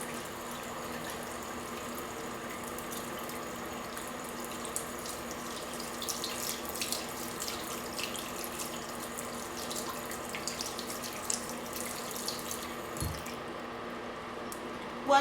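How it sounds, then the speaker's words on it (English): Tap water runs steadily into a sink as lash tools are rinsed, a continuous close hiss with faint splashing that fades out near the end. "we're going to run them over to the sink and rinse them off with water."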